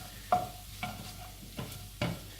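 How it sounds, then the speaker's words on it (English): Beef stirred in a hot frying pan for stroganoff, with a spoon scraping and knocking in a steady rhythm of about four strokes over a soft continuous sizzle, close and moderately quiet. "Look at this precision guided stirring."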